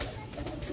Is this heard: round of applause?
no